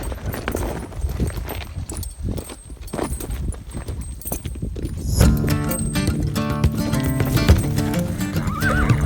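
A horse on a mountain pack trip whinnies loudly, with hooves clopping and rustling movement nearby; no one speaks.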